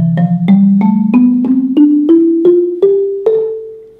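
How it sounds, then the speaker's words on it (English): A bass xylophone is struck with the softest red mallets, playing about nine round, resonant wooden notes in an evenly paced rising scale. Each note is close and clear, with no voices. "This is the bass xylophone."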